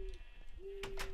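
An owl hoots in a Minecraft game, a steady, hollow, low tone that breaks off briefly and resumes, over soft background game noise and a few brief noise bursts.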